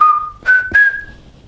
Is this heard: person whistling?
yes